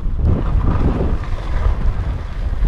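Wind buffets the microphone in a constant low rumble and roar during light blowing snow, with no voices.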